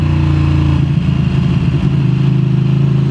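A Ducati Panigale V2 motorcycle runs under way with a loud, steady engine drone and throttle changes, heard close from the rider's position with some wind and mechanical clatter.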